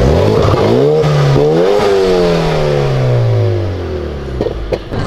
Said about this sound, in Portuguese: o Jetta do Dub aqui, stage 3 contra o Polo, mano